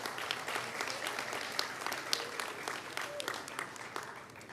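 An audience at a girls' state opening assembly applauding, a dense, steady patter of many hands clapping at moderate distance, sustained throughout without a break.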